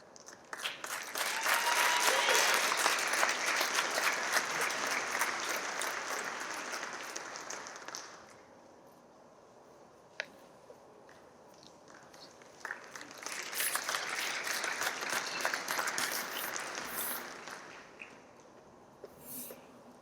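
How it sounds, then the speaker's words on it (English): An audience at a graduation ceremony breaks into applause twice, each burst of clapping swelling and fading over several seconds with a quiet gap between. "I feel like our applause of recognition was a little haphazard there."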